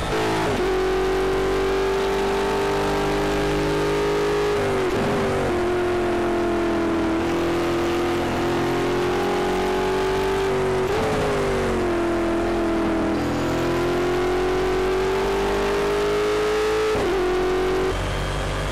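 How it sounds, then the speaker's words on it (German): A Corvette C7-R racing car's V8 roars steadily in Project CARS at Watkins Glen, loud and continuous with slight pitch dips at shifts and rising revs, heard from outside the car. "Alter Verwalter, was ein V8-Geböller, das ist krank."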